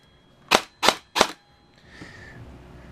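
An airsoft gun fires three sharp, close semi-automatic shots on a 7.4 battery, evenly spaced about a third of a second apart, followed by a faint mechanical whir and quiet room noise.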